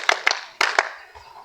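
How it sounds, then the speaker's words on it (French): A few brief hand claps for a girl in a classroom, four sharp bursts in two quick pairs, then a faint low thump as the clapping dies out. "Applaudissez pour elle."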